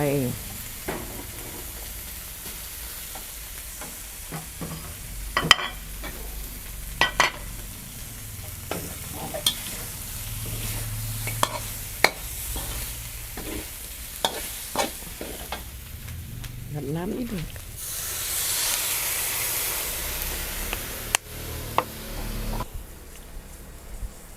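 Fish pieces stir-fried in a hot pan for a dry, spicy mackerel dish, an ongoing sizzle punctuated by frequent spatula clanks and scrapes, with a louder hissing surge late on and faint voices in the background.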